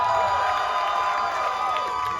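At a music festival finale, a crowd cheers and claps in a dense, continuous roar that stays loud throughout.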